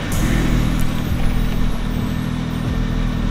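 A BMW 335i with catless downpipes idles steadily and loudly up close, a deep, even engine rumble that holds constant from start to finish with no revving and no talking.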